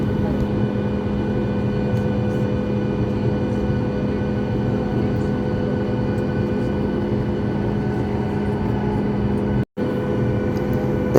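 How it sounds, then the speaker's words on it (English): Steady, loud rumble of a United Boeing 767's jet engines roaring continuously as it arrives on the runway, with a brief cut near the end. "Here's the United 767 arriving on runway 4 right"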